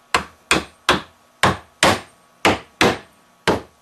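Eight sharp, evenly paced hammer blows drive a nail into a wooden bird feeder, each strike a close, loud crack with a short decay and no talking.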